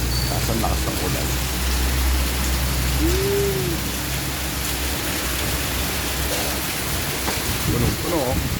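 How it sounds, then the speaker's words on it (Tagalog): Steady heavy rain hisses throughout, a dense broadband wash with faint voices murmuring underneath. "Tapos ang lakas ng ulan."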